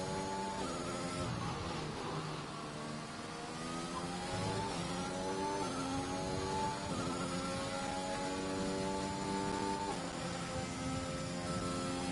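Onboard an F1 car on a hot lap around Singapore in the F1 2021 video game, the engine screams continuously, revving up and down through rapid gear changes, loud and close, with no talk.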